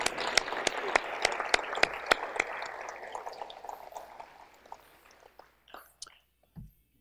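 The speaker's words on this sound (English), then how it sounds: "give yourself and the person next to you a round of applause" A room of guests at a rodeo-themed chamber of commerce awards banquet gives a round of applause, with sharp, close individual claps over a crowd of clapping that gradually thins and dies out into scattered claps and quiet.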